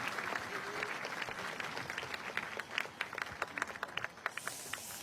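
An audience claps warmly at a national anniversary ceremony, a dense steady patter of applause that thins into scattered individual claps toward the end.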